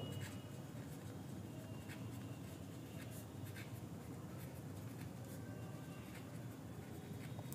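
Pen scratching steadily across paper while working through a Bengali business arithmetic problem on capital and time, a continuous close and quiet scribbling with no talk.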